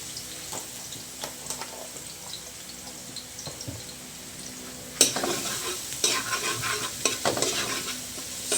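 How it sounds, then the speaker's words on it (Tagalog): Garlic sautés in a pan for bitter gourd (ampalaya) with egg, with quiet sizzling and scraping stirs that jump to louder, brighter frying crackle partway through. "Maggigisa lang ako ng ampalaya na may itlog."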